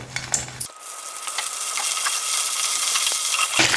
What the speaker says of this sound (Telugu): అందులో ఆయిల్ పోసుకోండి ఈ వంకాయలు వేయించుకోవడానికి అందులో ఈ వంకాయలు ఇలా పెట్టేసేయండి